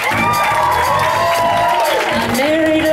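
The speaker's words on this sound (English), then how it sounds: "Let's give yourselves a round of applause just for looking so good." Audience applause at a magic show opening, loud sustained clapping and cheering from a crowd with whoops, while amplified music or voices ring out over it.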